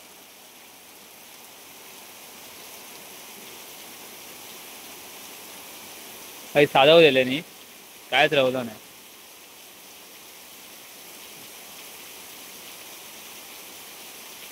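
Heavy, continuous rain falls on a Konkan village, a steady rushing hiss that runs through the whole stretch at moderate level, with a person speaking briefly twice over it midway.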